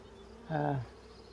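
A single short honeybee buzz close by, lasting about a third of a second, rises out of quiet background hum from an open hive being inspected. No one speaks.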